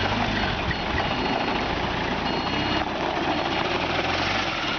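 A lift machine with a 12-foot reach and 360-degree steering rotation runs its engine steadily through its lift operation, a constant droning hum with low rumble, fairly near and unbroken.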